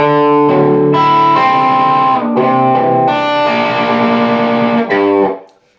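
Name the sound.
electric guitar picking through chords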